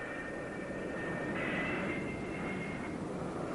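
F-4B Phantom II jets sit on the catapults of the aircraft carrier USS Forrestal, their engines producing a steady, loud, broadband roar that swells slightly midway and continues without a break.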